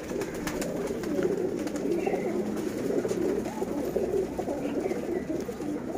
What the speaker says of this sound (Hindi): और ये मेरे एक केज के कबूतर हैं,